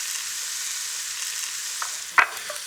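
Onions fry in extra virgin olive oil, a steady, even sizzle close by, with a single sharp utensil clack and a couple of soft taps near the end.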